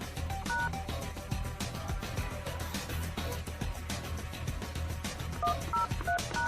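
Keypad tones from an office desk phone in a small business telephone system, a quick series of distinct beeps pressed one after another, close and clear, with no talking.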